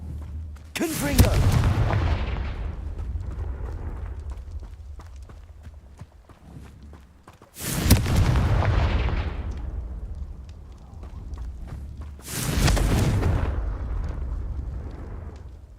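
Three loud, booming blasts from the Confringo blasting spell in the video game Hogwarts Legacy, spaced several seconds apart. Each burst erupts sharply, then rumbles and fades into a lingering low tail.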